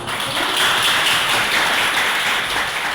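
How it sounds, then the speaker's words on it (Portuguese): An audience at a book fair breaks into applause, a steady, loud wash of many hands clapping that lasts the full few seconds with no pauses. "Muito bem, uma salva de palmas"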